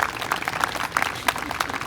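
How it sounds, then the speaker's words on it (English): A crowd at a Pride flag raising ceremony press conference claps briefly for the man holding the flag, dense applause mixed with voices. "So will you please give a round of applause for the man holding the flag, Weston Clark"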